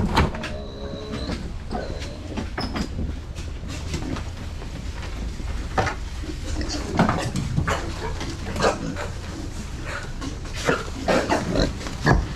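Older pigs in a barn pen grunt and oink throughout, with clanks of pen gates and metal rattling, a busy close chorus of snorts and squeals.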